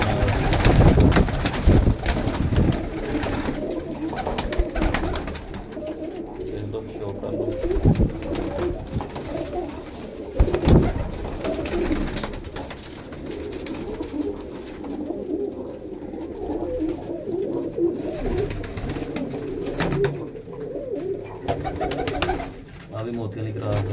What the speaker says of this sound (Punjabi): ਆਹ ਮੋਤੀਆਂ ਵਾਲਾ ਕਬੂਤਰ